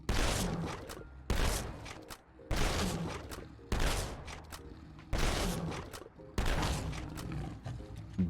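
A fully upgraded shotgun fires in a video game, letting off six heavy, booming blasts in a steady rhythm. Each loud shot rings out and decays before the next comes quickly.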